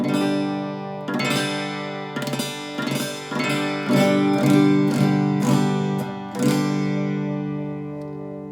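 Acoustic guitar strings picked in steady succession at one spot along the strings, each note ringing out with bright harmonics and overlapping decay, played alone and close.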